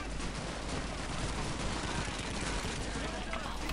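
Machine gun fire in the World War II shooter Call of Duty 2, a dense continuous roar of rapid shots and battle noise with no break, with someone talking over it.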